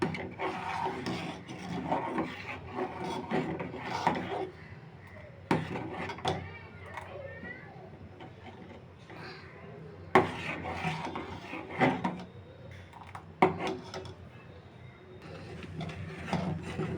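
A spoon scraping and stirring sabudana milk pudding in a cooking pot, with rough rasping strokes, occasional sharp knocks against the pot and brief quieter pauses, close and moderately loud.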